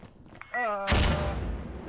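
In a video game, a grenade bursts with a sudden loud blast that decays into rumbling noise, preceded by a shouted voice.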